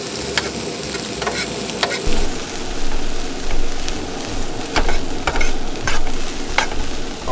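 Taco filling is sautéed in a pan at a truck camping site, with a steady, close sizzle and frying crackle broken by the repeated scrape of stirring.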